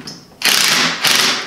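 A fastener on the flange of a wooden cable reel being loosened with a ratchet gives two loud, close bursts of rapid clicking, separated by a short pause, with no talk.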